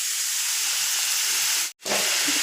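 Chopped raw papaya dropped into a hot pan for a Kerala-style stir fry, giving a loud, continuous close hiss of sizzling that cuts out briefly before resuming.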